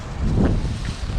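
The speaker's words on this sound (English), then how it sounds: "Wind's picking up" Wind blows outdoors, buffeting the microphone with a steady low rumble and soft gusting roar, loud and close, with no other sounds over it.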